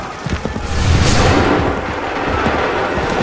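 A cannon and musket volley in the Assassin's Creed 3 video game, a dense rumbling roar of overlapping booms and gunfire that swells after a second and stays loud to the end.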